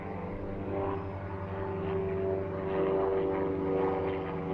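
Eastern Airways airliner at London Southend Airport, a steady, loud propeller engine drone with a rising and falling hum, continuous throughout with no talk.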